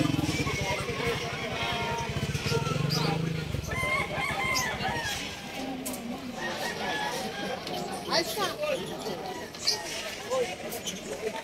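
Several roosters crow amid clucking and chatter of a flock at a pet market in Bocaue, Bulacan, with people talking nearby and a steady outdoor background.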